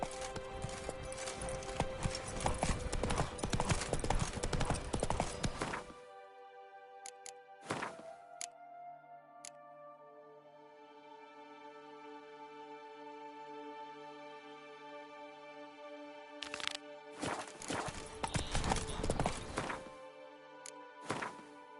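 Horse hooves clip-clop while being ridden, a dense, loud run of hoofbeats at the start, then a quiet stretch with a few sharp knocks and a sustained tone, before the clattering hoofbeats return near the end.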